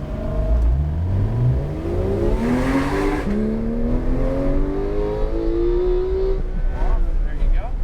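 A Porsche 911 GT3 engine accelerates hard on a race track in repeated rising revs through the gears, loud and close from the cabin, with an instructor's voice talking over it.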